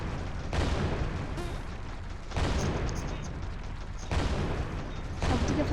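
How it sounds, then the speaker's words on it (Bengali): Gunfire erupting from all sides in a gangster crime video game, a loud, booming barrage that swells in repeated waves over a constant rumbling backdrop. "সব দিকে ফায়ার করতেছে কি।"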